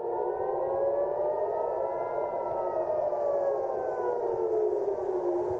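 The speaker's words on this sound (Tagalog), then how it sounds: "Ipinatunog ang sirena sa Israel, senyales na may paparating na mga rocket mula sa Lebanon." A civil defense siren in Israel sounds a rocket warning, its steady wailing tone slowly rising and falling, loud and continuous, with a faint higher layer and no speech.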